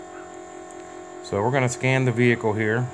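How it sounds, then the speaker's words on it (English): A steady low electric hum from the brake motor of a school bus running with the key on, constant throughout while someone speaks over it. "That noise you hear with the key on is the electric brake motor running."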